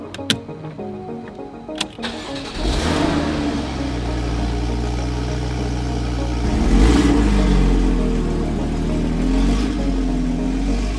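A Porsche 981 Cayman engine starts after a few clicks and short knocks, then revs and accelerates with a steady mid-pitched roar that swells around the middle and holds loud close by, with no talking.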